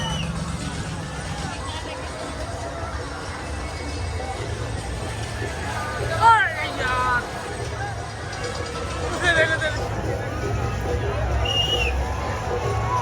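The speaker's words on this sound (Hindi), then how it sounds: "बहुत भीड़ है" Dense crowd babble and hubbub at a busy night fair during Ashtami, near the swing rides, a steady wall of many voices with a couple of brief louder shouts rising over it.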